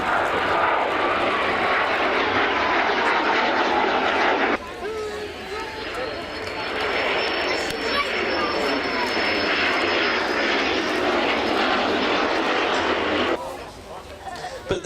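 A BAC Strikemaster jet, an ex-Royal Air Force of Oman aircraft, flies at the Scottish National Airshow at East Fortune. Its engine roars loudly and steadily as it passes, while a commentator talks over it.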